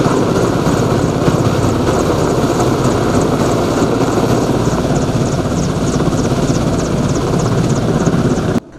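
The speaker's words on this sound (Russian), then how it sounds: "вылетает вертолет с группой" A helicopter carrying an assault team flies close and loud, its rotor thumping in a fast continuous beat over a heavy engine roar, steady throughout before cutting off abruptly at the end.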